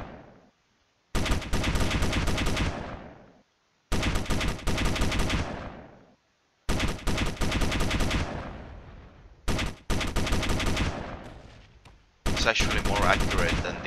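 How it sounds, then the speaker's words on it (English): Rapid bursts from a 50mm cannon in the Space Engineers game, loud and close: five volleys of quick repeated shots, each lasting a second or two, separated by short silences, the last one mixed with an explosion-like hiss. "I'm surprised how precise the 50mm cannon is."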